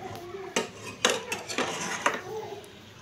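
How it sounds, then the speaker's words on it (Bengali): A spoon stirs food in a metal cooking pot, with several close, distinct scraping clanks in an uneven rhythm and no talking. "নাড়িয়ে দেওয়ার পর এই যে ভালো করে নাড়িয়ে দিচ্ছি।"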